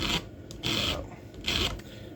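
Hand file rasping across the teeth of a carving chainsaw chain, three steady strokes with short pauses between, close and fairly quiet with no talk.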